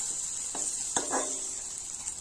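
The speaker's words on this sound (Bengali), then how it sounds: "এই পিঠটা লাল করে ভেজে নিলেই আমার সব মাছ ভাজা কমপ্লিট হয়ে যাবে" Jackfruit-seed fritters fry in hot oil in a pan, giving a faint, steady sizzle broken by a few brief spatula scrapes and clinks, with no one talking.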